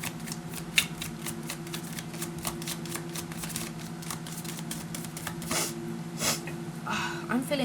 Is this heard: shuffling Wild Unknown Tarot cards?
yes